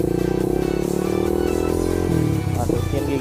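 A motorcycle with a manual clutch, ridden while practicing a start at a red light, revs up steadily as the clutch is half released, its engine tone holding loud and close for about three seconds.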